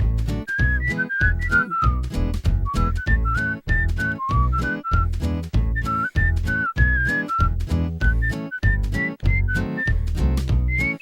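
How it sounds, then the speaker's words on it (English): A bright, melodic whistled tune carries over a bouncy, rhythmic musical accompaniment, steady and upfront throughout, from the music of the video game Conker's Bad Fur Day. "Little whistle."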